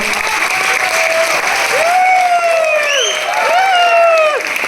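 An audience at a Vestige gathering claps loosely and without much energy. The applause runs throughout, with scattered high calls and whoops from the crowd rising above the patter.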